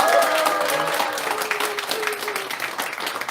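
Dense applause from a church talk-concert audience fills the space continuously, loud and close, with faint voices mixed underneath.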